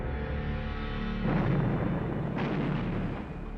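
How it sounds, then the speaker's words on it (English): A torpedo launch effect for a documentary about an early naval torpedo: a steady mechanical drone broken by two heavy booming blasts, loud and close, with no voices. "An English engineer, Robert Whitehead, invents a bomb that can drive itself to the target from a safe distance: the torpedo"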